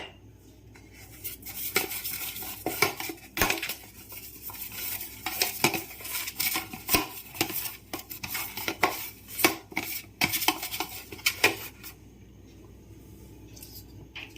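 Chocolate fudge scraped from a pan into an oiled mold with a metal utensil, heard as close, irregular scraping and clinking of metal on cookware in quick strokes, then quieter at the end, with no talking.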